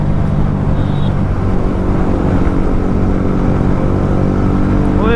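A TVS RTR 310 motorcycle cruises steadily in sixth gear, its engine and wind noise forming a loud, continuous drone with no breaks or revving throughout.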